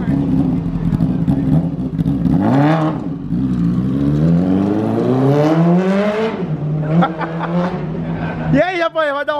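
A Honda Fan motorcycle fitted with a Hornet 600 engine revs hard and close, its pitch climbing and dropping in repeated surges with brief dips between pulls, loud and raw throughout.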